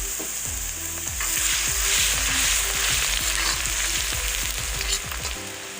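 Ginger-garlic paste sizzling with onions in a pan for chicken liver and bitter gourd, a steady loud fry hiss with repeated scraping stirs throughout.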